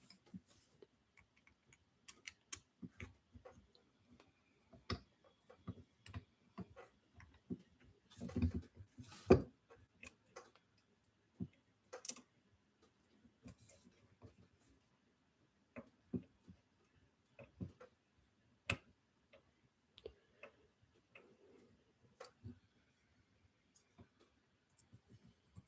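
Small screws being worked loose on a shore fishing reel, faint scattered ticks and tiny metallic clicks at an uneven pace, close and quiet with near-silence between them.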